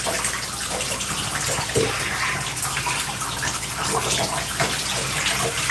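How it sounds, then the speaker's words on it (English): Water from a tap pours steadily while hair is rinsed during a wash-and-go styling routine, a dense continuous splashing rush that stays close and loud for the whole few seconds with no talk. "So now we're going to go ahead and rinse."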